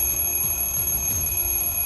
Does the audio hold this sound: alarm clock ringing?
yes